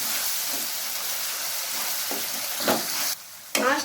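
Tomato paste frying in a pan over low flame and being stirred with a spoon, a steady bright sizzle and hiss with a few scraping strokes and spoon clatters near the end.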